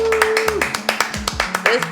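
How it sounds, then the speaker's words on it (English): Quick rhythmic hand claps, a short burst of applause close by, with a voice talking over it. "Round of applause."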